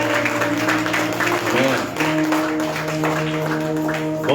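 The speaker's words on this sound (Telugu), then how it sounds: "ఒకసారి ఈసారికి చప్పట్లు కొట్టండి అందరూ" A church congregation at an Easter service claps together in a sustained burst of applause, heard alongside organ or keyboard tones and some voices.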